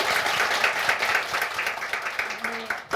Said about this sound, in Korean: 다시 한번 명세빈 씨께 박수 한번 보내주시겠어요